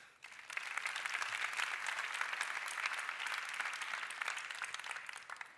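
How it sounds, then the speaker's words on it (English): A keynote audience breaks into steady, dense applause that swells quickly, holds for several seconds and tapers off at the end, a crowd of clapping hands without talk. "So give them a hand of applause."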